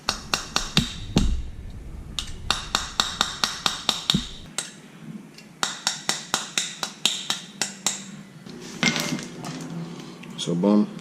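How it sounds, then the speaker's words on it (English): A brake pad pin is hammered into a Brembo four-piston caliper, using a drill bit as a punch. Sharp, close metallic strikes come in quick rhythmic runs, with short pauses between the bursts. "and just hammer it in."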